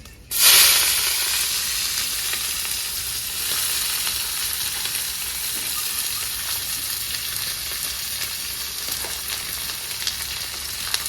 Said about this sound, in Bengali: দুটো তেজপাতা ডালচিনি ছোটো এলাচ লবঙ্গ একসঙ্গে দিয়ে দেবো দিয়ে দেবো কেটে রাখা পেঁয়াজ